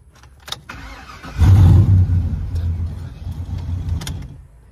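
A turbocharged truck engine cranks briefly and catches, then settles into a steady, deep running rumble up close, with a few clicks and knocks before and after.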